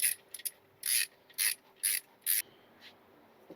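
Ratchet wrench tightening the upper pulley bolts on a car engine during an alternator and belt repair: several short bursts of rapid metallic clicking, close and fairly clear, with pauses between strokes and no talking.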